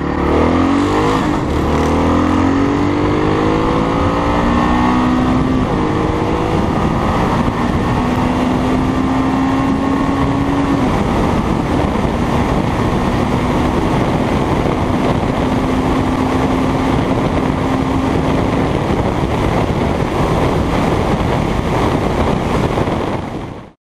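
Kawasaki KLR motorcycle engine running, a loud close drone with rising and falling revs and steady tonal hum, rough wind noise over the microphone throughout.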